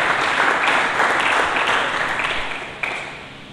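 A church congregation breaks into loud, close applause, a thick wash of many hands clapping together that holds steady, then thins and fades over a few seconds.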